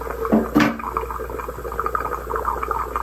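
Dirty water draining from a bathroom sink after a clog was cleared with a power snake through the trap drain plug, a close gurgling, sloshing rush with a brief splash at the start, steady throughout.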